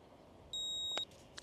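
A single steady electronic beep lasts about half a second from the button of an Outin portable espresso maker, followed by a couple of faint clicks.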